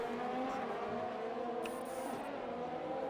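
Race cars in a racing video game round at the Netherlands circuit drone steadily as they run close together during an overtake, a continuous engine whine with a faint higher tone near the end.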